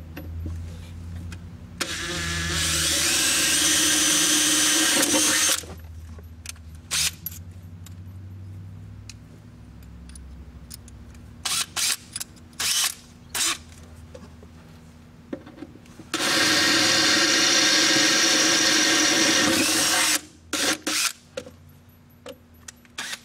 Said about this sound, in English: we're going to proceed drilling these holes